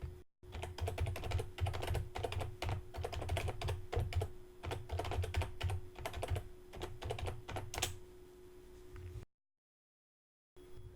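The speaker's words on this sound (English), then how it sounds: "The second one, I'll type termsandconditionsgenerator.com." Close, quick keystrokes on a computer keyboard as a website address is typed while building a WordPress site, a steady clatter of clicks for about nine seconds before it stops abruptly.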